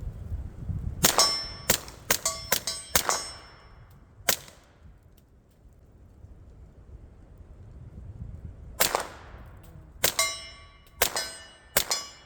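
Suppressed 9mm subsonic pistol shots through a GEMTECH Lunar 9 suppressor, sharp metallic cracks in two quick clusters separated by a quiet gap, loud and close outdoors.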